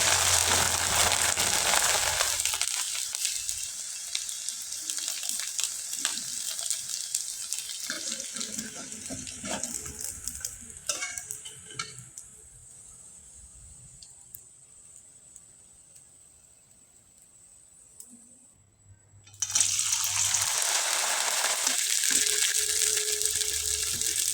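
Puffed rice and rice papad chips deep-frying in oil over a low flame: a loud, bubbling hiss fades to a quiet lull partway through, then surges back at full strength.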